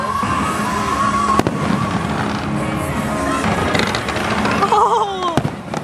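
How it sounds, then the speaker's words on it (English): A nighttime fireworks show at Disney World with a dense crackling, booming barrage, sharp bangs, whistling shells and crowd noise underneath, loud and continuous. "We got to see a fireworks show tonight."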